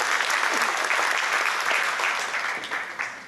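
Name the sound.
congregation applause of encouragement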